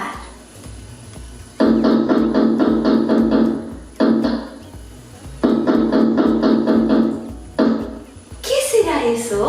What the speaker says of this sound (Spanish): Les cuento que es el sonido de cuando nosotros tocamos la puerta.